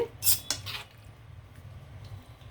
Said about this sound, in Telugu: సర్వింగ్ ప్లేట్లోకి మనం వేసుకుందాం.